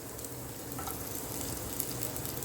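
Chopped garlic and green chilies sizzle and sauté in hot oil in a pan. The frying crackle is steady and continuous, soft but close, with no voices.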